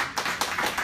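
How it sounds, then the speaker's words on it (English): A few people clap at an advisory neighborhood commission meeting to recognize attendees. The claps are scattered and close, with a handful of distinct hits in under a second. "Let's give them a round of applause."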